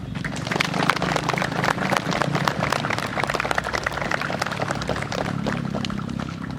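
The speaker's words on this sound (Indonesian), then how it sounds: "Tepuk tangan semua." Outdoor applause at a school flag ceremony on National Education Day: many hands clap in a dense, continuous patter for several seconds, with some voices mixed in.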